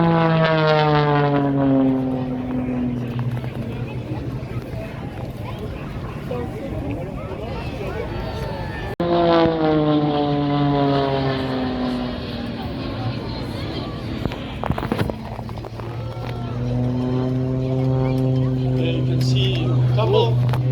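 An aerobatic propeller plane performs tail slides and tumbles at the Swartkops airshow in South Africa, its engine note repeatedly rising and falling in pitch through the manoeuvres while a commentator talks over it.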